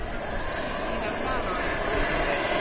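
Red Arrows jet aircraft at Hawarden Airport spooling up on the ground, a steady broad engine roar filling the scene with continuous rumble, while people talk faintly underneath.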